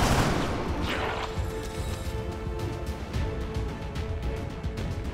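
Rapid gunfire from a squad battle in the tactical game XCOM 2 Long War 2, a burst of loud cracking shots with a booming impact at the start followed by a sustained rattling fusillade fading into rumbling noise.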